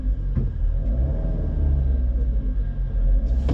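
A dune race vehicle's engine rumbles steadily in second gear, a loud, close, continuous low drone that swells slightly toward the end.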